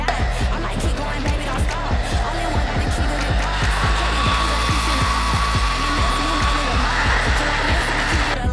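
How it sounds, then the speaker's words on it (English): A steady hair dryer on its cool setting blows continuously at close range over a wig, a broad whooshing roar with a faint high whine, while rhythmic thumping plays underneath. "you're gonna take your blow dryer on a cool setting and blow dry it"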